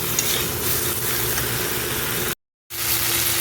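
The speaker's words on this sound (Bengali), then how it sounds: "ঝিঙেটা দিয়েও আর একটু ভালো করে কষিয়ে নেব।" Ridge gourd sautéing in a pan with fish curry, a continuous loud sizzle with stirring scrapes, broken by a brief silent gap before the frying resumes.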